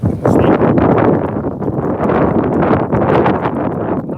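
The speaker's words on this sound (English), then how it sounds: "Very windy today." Strong wind buffets the microphone in loud, rumbling gusts, with rustling outdoors and no one speaking.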